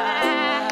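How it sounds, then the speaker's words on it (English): A sheep gives one sustained, nasal bleat in a children's nursery song. It is close and steady, with no talking over it. "The sheep says baa."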